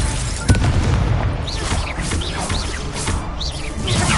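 Incendio fire spell going off in the Hogwarts Legacy video game, a booming burst of fiery noise followed by dense rumbling and crackling combat effects, loud and continuous throughout.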